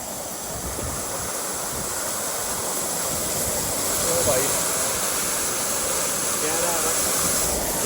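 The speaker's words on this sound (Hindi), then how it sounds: "ऊपर से आ रहा झरना भयंकर, और पानी की आवाज आ रही होगी" A waterfall roars in a loud, unbroken rush of crashing water that fills the whole scene.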